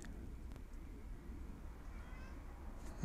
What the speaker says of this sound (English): There's a cat that's making a noise here.